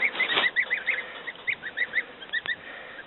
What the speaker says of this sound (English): There's the ducklings and the goslings in there cohabitating.